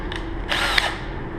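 A power drill fitted with a Kreg bit for drilling pocket screw holes in a step stool, spinning up in a brief whirring burst close by, then winding down.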